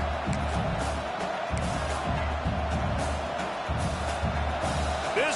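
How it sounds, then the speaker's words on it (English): Stadium crowd roaring steadily in a college football video game featuring Oklahoma, a dense continuous wash of cheering noise with no talk over it. "This crowd bringing the energy and noise early."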